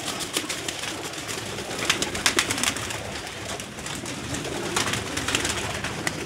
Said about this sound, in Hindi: ये सब कबूतर गिजे हुए हैं जो मैं दिखाऊंगा अब आपको